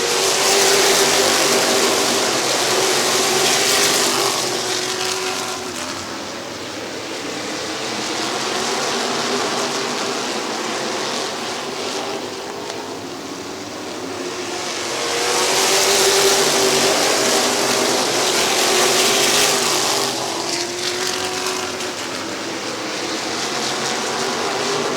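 Stock cars racing at Midvale Speedway, a dense continuous roar of engines that swells and fades as the pack circles the track, loud and sustained throughout.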